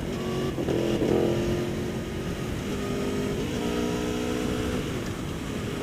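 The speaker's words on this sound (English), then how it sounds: "I just went up and down about 4 gears" An Aprilia Tuono 1100 Factory motorcycle revs steadily close by as its quickshifter blips through about four gears up and then back down, the engine note rising and dipping under a constant rumble.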